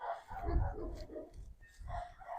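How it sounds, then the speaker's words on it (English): A few quiet barks from dogs somewhere off in the distance, soft and intermittent. "I wonder what they're barking at."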